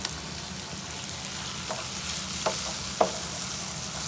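A spoon mashes cooked gawar (cluster bean) vegetables in a pan over a steady sizzle, with a few soft scraping taps against the pan. No one speaks.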